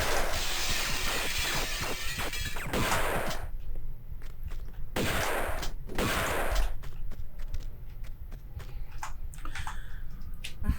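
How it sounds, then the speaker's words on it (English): Enemy gunfire in the remastered Tomb Raider 2: Golden Mask video game, a dense string of sharp cracks and impacts, loud and close, with a few brief lulls between clusters of shots. "You can also maybe get a few quick shots in on them."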